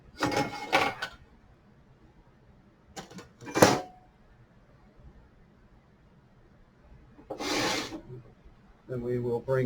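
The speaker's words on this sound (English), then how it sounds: "We'll now loosen the front screws to remove the front of the" Front screws on the vent of an IBM Storage Fusion HCI System rack are loosened in a few short, close rasping bursts separated by quiet pauses, ending with a brief clatter.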